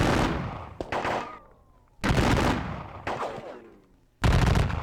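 Massed rifle volleys in a Civil War strategy game set at the Battle of Perryville, crashing out as several loud rolling bursts spaced a second or two apart, each trailing off into a crackling decay.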